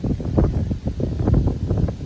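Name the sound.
wind blowing into microphone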